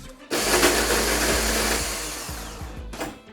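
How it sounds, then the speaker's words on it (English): A small blender chopping ginger, garlic and coriander stalks whirs loudly and steadily for about three seconds, starting abruptly and cutting off near the end, with a brief restart. "let's get our ginger, our garlic, our coriander stalks, all into our wee blender"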